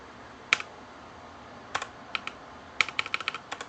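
Quick bursts of keystrokes on a computer keyboard, a single tap, then a short pair and a rapid run of clicks, crisp and close in an otherwise quiet room.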